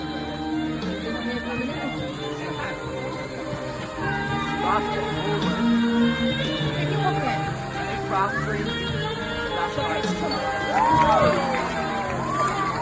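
A lively crowd cheers and shouts with applause-like noise at a seal and sea lion show, children's voices rising and falling throughout, fairly close.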